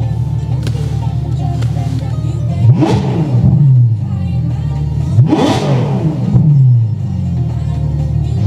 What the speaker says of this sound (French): Et je vais te faire 2-3 coups de gaz